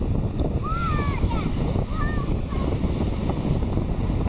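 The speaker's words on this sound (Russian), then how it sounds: "Огромные волны." Huge storm waves, about three metres high, surge and crash near a pier on a windy day, a steady broad roar of surf and wind noise filling the whole clip, with faint high calls, probably seabirds, drifting over it.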